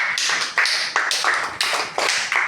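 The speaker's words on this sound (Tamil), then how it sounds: "கை தட்டுங்க, அவன் கை தட்டுங்க." Several people clap their hands together in a short burst of sharp, repeated claps, loud and close, with no talk over the applause.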